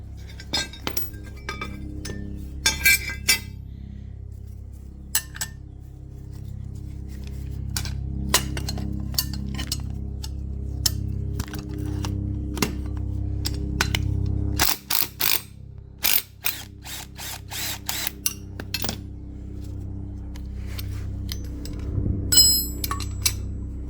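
Metal parts clink and clatter as a pulley is worked loose and pulled off a Troy Bilt TB42 riding lawn mower, with sharp taps and knocks scattered over a steady low hum, busiest in the latter half.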